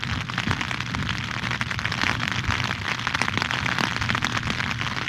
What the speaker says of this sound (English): It's starting to rain pretty hard.